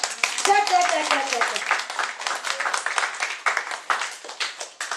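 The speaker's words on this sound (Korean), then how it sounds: "감사의 박수를 한번 올리겠습니다." Church congregation clapping together in thanks, a loud, steady run of hand claps with voices calling out briefly at the start.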